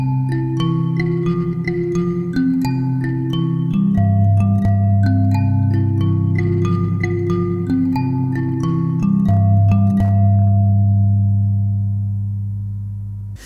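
Plucked mbira notes ring out in a repeating pattern, bright metallic tones over deeper bass keys, sustaining and fading gently at the end.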